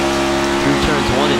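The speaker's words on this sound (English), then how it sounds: "is he shifting? Really playing with the throttle" Race car engine on a NextGen series racing-league track, the driver shifting and working the throttle, a steady loud engine tone with pitch dips and rises as gears change, under commentary.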